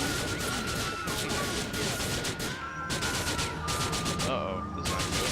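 Rapid bursts of automatic gunfire crackle through a Grand Theft Auto IV shooting mission, nearly continuous and loud for several seconds with brief gaps, layered over dense game action noise.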